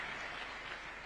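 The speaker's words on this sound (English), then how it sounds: "Let's also give a clap to my Principal Secretary, Charles Hinga, as he sits down" Brief burst of dense crowd applause at an indoor government meeting with graduate interns, steady clapping filling the room throughout a short moment without voices.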